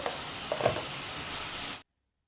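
Chopped tomato with salt cooking in a pan for chutney, a soft continuous sizzle with a couple of brief stirring knocks before cutting off abruptly.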